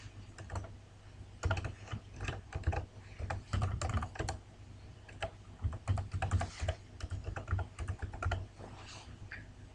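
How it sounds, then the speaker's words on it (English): Login credentials are typed on a computer keyboard, a close, continuous clatter of key presses in uneven bursts and short pauses, with no voices over it. "right now we can just type in the credential"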